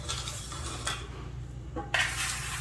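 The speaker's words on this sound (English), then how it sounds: "And then what I do is I just mix it. You have to keep kind of like mixing and turning." Roasted cabbage and pasta being mixed and turned in a pan: scraping and clinking of a utensil against the pan in short strokes, close and fairly quiet, with a brighter clatter near the end.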